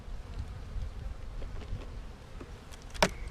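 Honey bees buzz around an opened hive, a soft continuous hum with individual bees zipping close past, alone with no voices.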